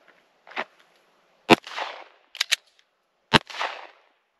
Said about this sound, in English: I'm gonna take them out with the CCI shot shells.